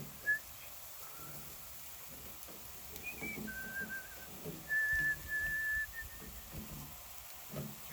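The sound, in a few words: person whistling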